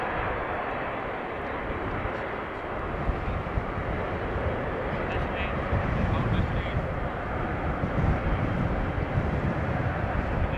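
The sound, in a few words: Saudia Cargo Boeing 747 at Amsterdam Schiphol Airport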